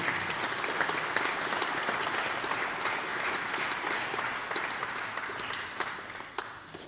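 A conference audience at a web and AI event applauds, a dense, even roar of clapping that holds steady throughout, with a faint voice near the end.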